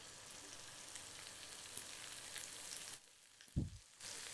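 Greens sautéing in a pan with softened onions, a soft steady sizzle that cuts out briefly before a short dull knock and then resumes; no talking.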